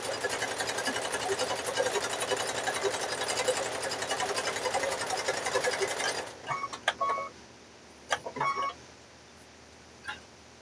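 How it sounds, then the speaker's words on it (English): A sewing machine stitches fabric-wrapped rope for a rope bowl in a loud continuous run lasting about six seconds, then stops, leaving scattered clicks and brief handling noises. "We may just sew this"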